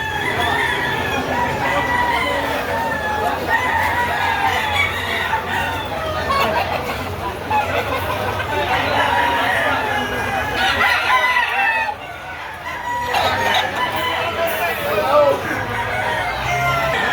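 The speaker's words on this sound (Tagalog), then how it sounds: "Ito po yung mga manok dito na mapagpipilian." A busy flock of chickens clucking constantly, with roosters crowing repeatedly over the din, close by and loud.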